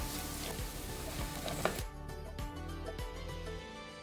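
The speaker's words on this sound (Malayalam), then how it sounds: "ആ വെള്ളത്തിൻ്റെ സൗണ്ടൊക്കെ മാറി ഇതുപോലെ നല്ല കിലുകിലുക്കിലാന്നുള്ളൊരു സൗണ്ട് വരും" Dry prawns fry in hot oil for a pickle, a steady crackling sizzle dotted with sharp pops and clicks that grows sparser and lighter toward the end.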